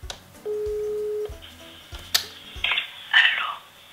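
A telephone ringback tone rings once as a steady held note, followed by faint clicks and a few short electronic beeps, with no voices in between.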